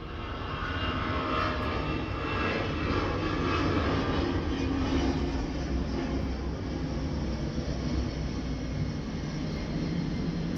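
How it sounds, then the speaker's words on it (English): A fixed-wing airplane passes overhead outdoors, a steady broad engine roar holding at close, even loudness for the whole stretch, with no voices over it. "Sorry, planes go by here."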